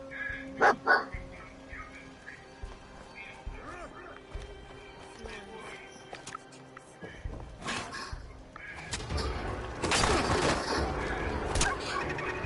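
A dog barks in sharp bursts near the start of a Fallout 4 game scene, followed by muffled game ambience and louder combat noise toward the end.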